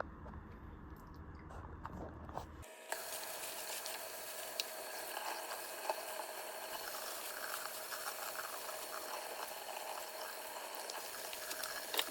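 Running water rinsing salt-and-sugar cured salmon fillets for cold smoking, a steady broadband wash with faint splashes that begins abruptly after a quiet moment and continues evenly at close range.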